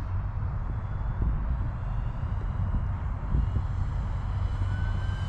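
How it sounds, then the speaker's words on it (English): An FMS P-47 Bonnie 1.5 m RC warbird plane makes an easy flyby at half throttle, its steady engine drone holding fairly constant with a slight rise and fall as it passes, heard alone outdoors. "Half throttle, just kind of doing some easy flybys."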